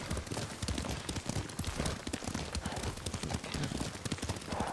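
Horse hooves in the samurai video game Ghost of Tsushima, a rapid, continuous galloping clatter, loud and close, with dense rhythmic thuds and no speech.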